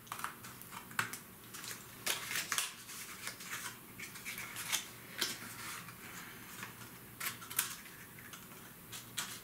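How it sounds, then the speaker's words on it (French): Repeated crisp snipping and rustling as paper is cut, irregular bursts close by against a quiet room. "pour couper le papier"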